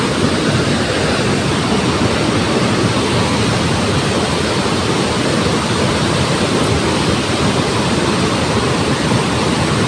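A flooded river rushes with great force, a loud, steady, broadband roar that stays constant throughout with no voices.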